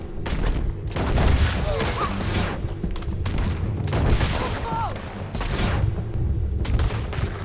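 Repeated gunfire in the Red Dead Redemption 2 game, a steady barrage of shots and booms across the whole stretch, loud and dense, with voices talking over the shooting.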